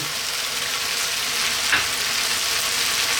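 Olives dropped into a pan of sizzling garlic chicken, a steady close frying hiss with a brief soft splash-like burst in the middle.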